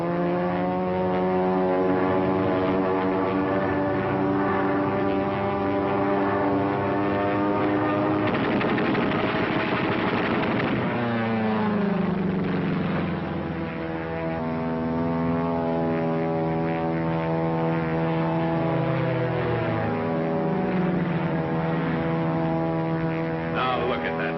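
A P-40 fighter plane flying past, a sustained loud propeller engine drone whose pitch sweeps downward as it passes, continuous for over twenty seconds.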